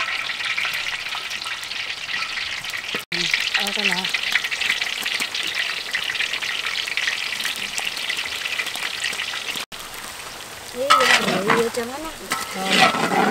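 Bananas fry in hot oil with a loud, continuous crackling sizzle that fills the whole stretch, stirred now and then, while people talk briefly over it near the end.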